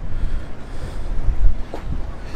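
Strong wind at a harbour buffets the microphone in loud, uneven low rumbling gusts that rise and fall, with faint background harbour noise and no speech.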